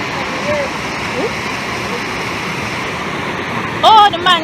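Steady broadband rush of a waterfall and river pools at Reach Falls in Portland, Jamaica, a continuous wash of water with voices briefly rising over it near the end.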